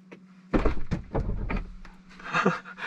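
A Tesla's front trunk and glove box open on a button press, giving soft clicks and a dull thunk followed by a low mechanical whir inside the car, with a steady faint hum underneath.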